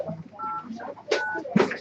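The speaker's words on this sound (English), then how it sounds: "we are going to get Ipsita on phone or Skype" Telephone keypad tones from a number being dialed: two short bursts of dialing beeps with voices talking faintly around them.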